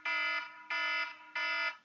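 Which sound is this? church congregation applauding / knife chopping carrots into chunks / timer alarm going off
timer alarm going off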